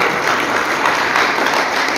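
A crowd applauds loudly and steadily, a dense wash of clapping with no pauses.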